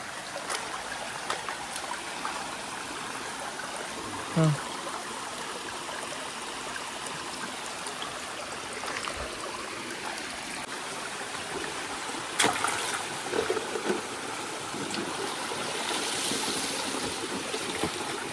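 A rain-swollen stream flowing steadily, a continuous broad rushing and trickling wash heard close by, with a few brief knocks and splashes and no talking.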